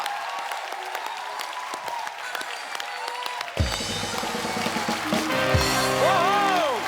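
A studio audience claps steadily at a live Indian TV comedy show as actors take the stage, with a bright musical sting and swelling tones rising over the applause in the second half.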